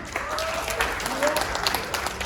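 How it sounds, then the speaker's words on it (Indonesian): Applause from an audience at a Pagar Nusa gathering in Japan, a continuous patter of clapping with voices talking over it. "kita beri tepuk tangan meriah"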